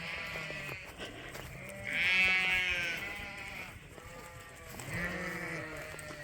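Sheep bleating on a farm while being sorted and moved, several overlapping calls from nearby animals in a loud, wavering chorus that rises and falls across the clip.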